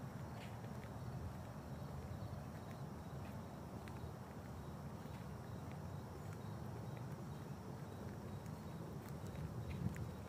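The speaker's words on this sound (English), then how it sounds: "Along with the chirping of the birds, you can hear the crickets sing." Woodland ambience in a lakeside wooded area, a steady layer of insect and cricket chirring with scattered faint bird chirps, continuous and even throughout with no talking.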